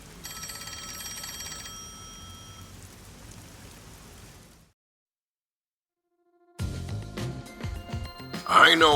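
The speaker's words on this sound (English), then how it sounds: "Oh, the phone. It's a call from the WDO." In the video game Master Detective Archives: Rain Code, a phone rings with a repeating electronic trill over steady rain. Silence follows, then rain, clatter and voices return.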